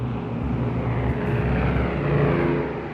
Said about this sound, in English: The 2 planes immediately turn to escape the blast.